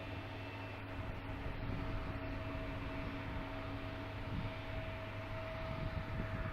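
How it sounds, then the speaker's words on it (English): A JetBlue airliner departs Washington's DCA airport, a steady broadband jet roar with a low rumble holding evenly throughout at moderate distance, with no talk. "And we got a JetBlue heading out."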